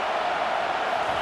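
Stadium crowd at a college football game in EA Sports College Football 25, a steady, dense roar of many voices filling the background with no individual shouts standing out.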